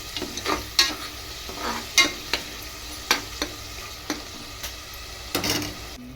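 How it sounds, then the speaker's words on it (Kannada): Masala spices bubble and sizzle in hot oil in a home kitchen pan, a steady frying hiss broken by a dozen light clicks and taps of stirring, close up with no voices. "ಈಗ ನೋಡ್ರಿ ಮಸಾಲೆ ಕುದೀತ್ರಿ"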